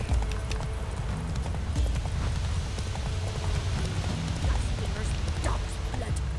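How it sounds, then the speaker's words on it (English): Hooves of the horse Roach clip-clop in a steady walking rhythm in The Witcher 3, close and moderately loud over a low game ambience. "He's a tough old horse, is Roach."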